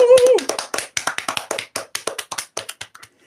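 A man slaps his belly to mimic cheering: a quick run of about fifteen sharp, close smacks in an uneven rhythm that follows a short spoken word at the start.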